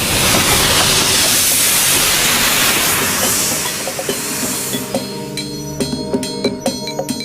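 A Welsh narrow gauge steam train gives off a loud rush of steam hiss that gives way to sharp metallic clanks and rhythmic clicks from the wagons, close by, with no talking.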